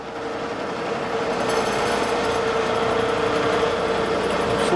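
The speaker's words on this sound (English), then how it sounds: "So let's go ahead and get ready to drill this tap hole." A lathe drills a tap hole in a crankshaft, a steady, dense whirring grind that holds constant throughout, loud and close.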